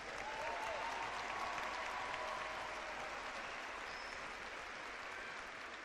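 A high school graduation crowd applauds steadily throughout, a dense, even wash of clapping heard from a moderate distance at fairly low volume, with no break.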